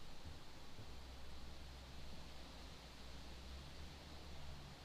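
Steady wind noise blows outdoors, a faint, even broadband hiss like white noise that holds without change throughout, with no voices.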